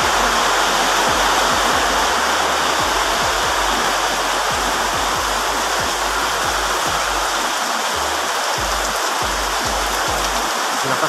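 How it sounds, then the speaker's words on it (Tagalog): Heavy rain pours down steadily on a farm in Saudi Arabia, a dense loud hiss with low thumps and rumbles underneath, continuous throughout with no voices. "Ayan, guys, lakas ng ulan."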